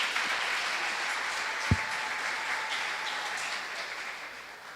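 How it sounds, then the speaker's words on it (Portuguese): Church congregation applauding the Lord, a soft continuous patter of clapping heard from a distance, with a single sharp thump partway through. "E aplauda o Senhor."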